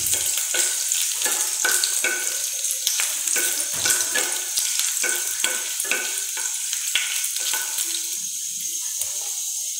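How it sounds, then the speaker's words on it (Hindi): Star anise, mace and ginger sizzle and fry steadily in a pan, with repeated scraping stirs marking an uneven rhythm over the constant hiss, close and fairly loud. "फूल चकरी, जावित्री, जिंजर डालकर मैं एक मिनट के लिए इसे सॉटे कर लूँगी।"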